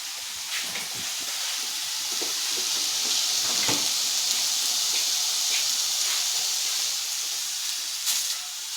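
Morel mushrooms cook in melted butter in a pan, giving a steady, close hiss and sizzle with faint crackles throughout.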